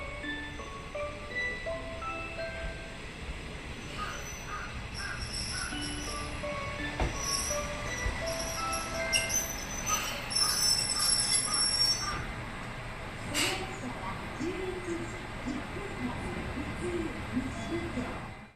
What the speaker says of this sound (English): This train is an NT3000 type diesel train.